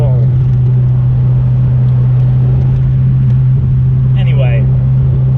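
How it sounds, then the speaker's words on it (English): A 1986 Bertone X1/9 sports car engine drones at a steady, loud idle-like growl throughout, with a faint higher squeal near the end. "listen to that Italian growl"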